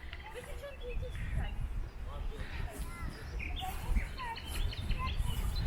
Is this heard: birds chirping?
yes